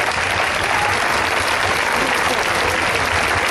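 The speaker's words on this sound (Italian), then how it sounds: "un altro applauso" Audience applause at an outdoor election rally in Monforte San Giorgio: dense, steady clapping from a crowd fills the whole few seconds, loud and continuous without a break.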